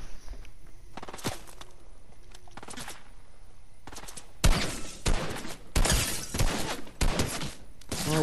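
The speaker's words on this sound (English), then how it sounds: "I am being shot at." Bursts of gunfire in a video game shootout, scattered shots at first, then louder, heavier volleys in quick succession close by, alone without talk.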